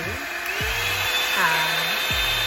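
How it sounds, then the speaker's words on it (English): A Revlon One Step blow dryer brush set to low gives a steady whooshing hum with a high motor whine throughout, while someone talks over it. "So it's plugged up, y'all, and this how it sounds, like a blow dryer."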